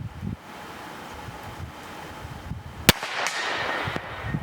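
A Huben GK1 air rifle fires one sharp, loud crack outdoors, standing out over steady wind noise on the microphone and faint rustling.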